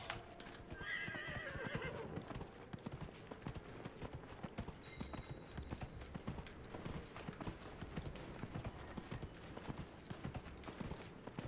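Horse hooves clip-clop steadily and loudly as a mounted horse moves in Dragon Age: Inquisition, with a brief whinny near the start and game ambience underneath.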